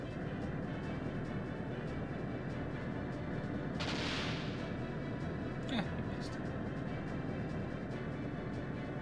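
Airship cannon fire in Skies of Arcadia Legends: a single whooshing boom rises out of a steady roaring engine drone, with a fainter sharp report shortly after and a person talking throughout.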